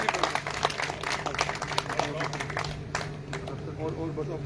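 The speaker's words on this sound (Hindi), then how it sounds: "जोरदार तालियों के बीच में।" A crowd claps at a welcome event for opposition leader Rajendra Rathore, scattered and uneven applause with a low steady hum beneath and voices mixed in.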